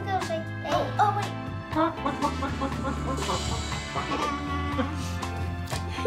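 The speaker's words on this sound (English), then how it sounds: "Chicken!" Toy chicken sound heard during a child's play session, clucking and rooster-like squawks over a tinkly electronic jingle, with a voice speaking over part of it.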